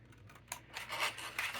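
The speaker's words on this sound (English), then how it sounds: "I still want to cut this piece off." Scissors cutting a piece off a paper folder along a score line: a few faint snips, then a longer rasping, scraping cut through the paper, close and quiet with no talking.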